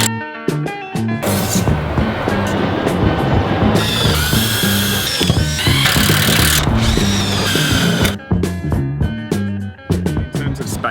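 A power drill drives metal screws into a wall panel for a wall garden, loud whirring bursts that rise and stop repeatedly, with rattling and clunks between runs.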